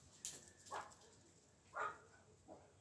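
Several dogs bark at a distance indoors, three or four short faint yelps spread apart over quiet room tone.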